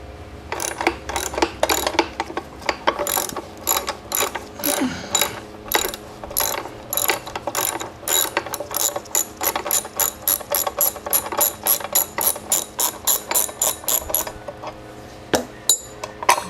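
A ratchet wrench works a half-inch bolt on the clutch cover of a Maytag 72 engine, clicking in quick, loud, close bursts of rapid pawl ticks with short pauses between strokes, and nobody speaks.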